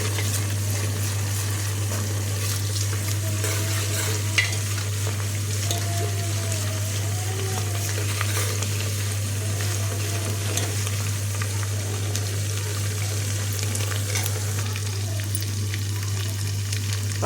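Hot oil sizzles steadily in a large pot as mint and coriander temper alongside green chillies and onions, a continuous close hiss over a constant low hum, with occasional faint stirring clinks.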